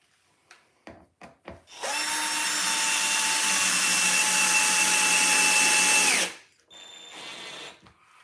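A power drill drives a screw through a wood piece into a birdhouse. A few knocks of handling come first, then a loud, steady whir lasts about four seconds, winds down, and softer handling noise follows.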